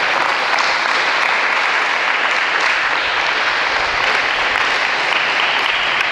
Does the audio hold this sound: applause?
yes